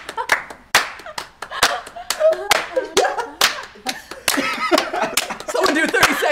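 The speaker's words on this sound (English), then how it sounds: "clap your hands." A small group claps hands in a loose rhythm during a party game, sharp slaps repeating close by with laughter and chatter mixed in.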